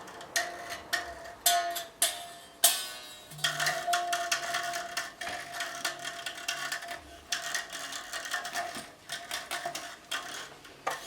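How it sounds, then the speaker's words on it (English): Slack, loosened strings on an electric guitar are plucked and rattled in a steady stream of dull, buzzy twangs and clicks, soft and close with no talking. "Now that I have loosened all my strings and they sound like this."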